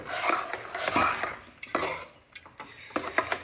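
A spoon scrapes and stirs through thick chicken gravy thickened with cornflour in a metal pot, in several bursts of clattering strokes with short pauses, fairly close and alone.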